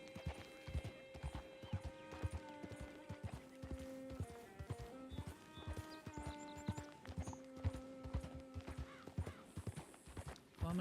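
Horse hooves clip-clop steadily in the Western video game Red Dead Redemption, a continuous rhythmic trot with a brief whinny, over a soft melodic game music bed.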